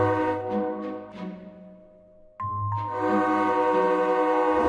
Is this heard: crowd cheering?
no